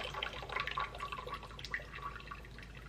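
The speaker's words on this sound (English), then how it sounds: "Go ahead and pour that hot tea" Hot tea pours into a pitcher of sugar, a soft, continuous trickle and splash of liquid that stays fairly quiet and close throughout.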